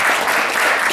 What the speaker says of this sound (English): let's give them and yourselves a round of applause